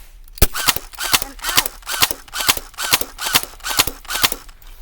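Rapid gunfire from an M4 rifle and a Glock 19 pistol at a shooting session, with about a dozen sharp, loud cracks. They come in a steady, quick rhythm of roughly two to three shots per second, close by and with no voices over them.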